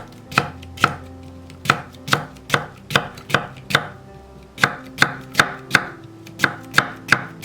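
A knife julienning an old Korean cucumber (nogak) into even strips knocks sharply on a cutting board. Crisp chops come in quick, regular runs with a brief pause near the middle, close and loud, with no talking.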